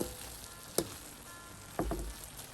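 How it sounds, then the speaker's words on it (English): Beef pelau is stirred in a pot over the fire under a constant gentle sizzle, with a few clear spoon scrapes and knocks against the pot. "So what I'm doing is just stirring it up a little bit, turn the fire down"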